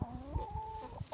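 Hens clucking up close while being coaxed with a snack, with a rising, drawn-out call that slides and holds before short clucks and soft scuffling.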